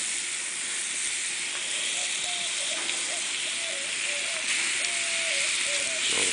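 Pork chops searing on a hot Himalayan salt block, giving a steady, even hiss and sizzle that runs the whole time at moderate loudness, with a faint tonal whine drifting through the middle.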